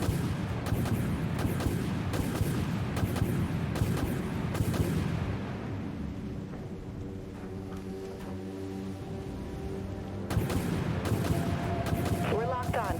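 Ship's primary weapons firing in a naval combat video game, a dense run of booming artillery-like blasts that rolls steadily throughout, thinning in the middle and swelling again near the end.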